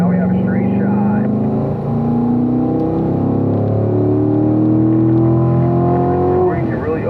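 A car at a performance driving school speeds down a racetrack straight, its engine drone climbing steadily in pitch as it accelerates, loud and continuous from inside the cabin with a voice talking over it.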